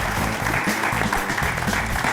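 Studio audience applauding at a New Year's comedy joke show, a steady dense wash of clapping throughout, fairly close and loud with no talk over it.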